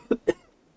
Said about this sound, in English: Sorry, cough.